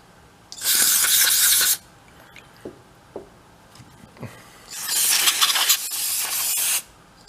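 Two long blasts of compressed air hiss loudly through carburetor passages on an old golf cart engine, the first about a second long and the second nearly two seconds, with faint clicks and taps between them.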